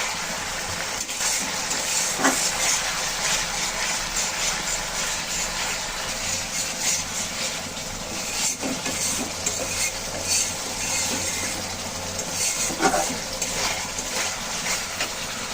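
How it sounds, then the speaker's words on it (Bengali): Spice masala sautéing in oil for a shing fish curry with ginger, cumin and chui jhal, giving a steady, close sizzle and hiss with scattered scraping stirs throughout, and no voices. "ভালো করে মশলা কষিয়ে নিলাম"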